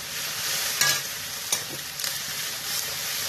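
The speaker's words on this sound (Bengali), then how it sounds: "ভালো করে পেঁয়াজটাকে কষিয়ে নিতে হবে" Onion fries with garlic and ginger paste in a pan, a close steady sizzle punctuated by a few sharp stirring scrapes and clinks of the spoon; no one speaks.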